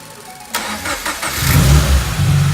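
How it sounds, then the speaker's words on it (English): A 2013 Subaru BRZ being rebuilt after a wreck cranks over with a short starter whir, then catches and fires into a loud, close, rumbling idle with a slight rev. "Let's give it a crank and see if it starts."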